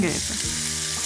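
Mango blossoms, drained of water, drop into hot ghee tempered with cloves, cinnamon and green cardamom and give a loud, close crackling sizzle that carries on steadily. A voice speaks briefly at the start.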